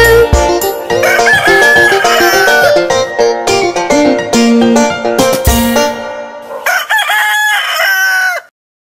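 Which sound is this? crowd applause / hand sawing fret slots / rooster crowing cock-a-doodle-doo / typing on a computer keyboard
rooster crowing cock-a-doodle-doo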